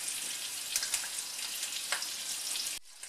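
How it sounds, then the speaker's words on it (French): Skin-on chicken pieces fry in a pan with a continuous close sizzle and occasional stirring knocks, cutting to a quieter hiss near the end. "Je remue un petit peu pour pas que la peau colle."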